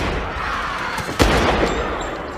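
Gunfire from a film gunfight in Collateral, a dense burst of loud, sharp shots over a constant roar of background action, with one especially sharp crack near the middle.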